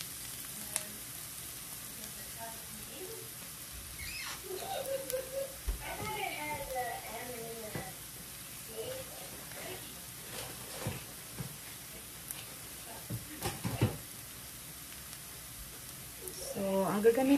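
Tuna and Vienna sausage frying in a pan for pancit canton, a soft steady sizzle with occasional stirring clatter and a voice speaking faintly in the background.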